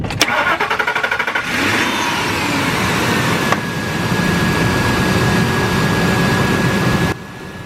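Truck engine cranking with a portable jump starter, a rapid stuttering crank for about a second and a half before catching into a loud steady idle that revs briefly then drops.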